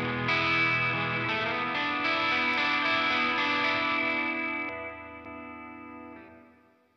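Electric guitar with a clean tone and reverb through a Walrus Audio Melee pedal, sustained ringing chords with a few changes that gradually decay and fade out at the end.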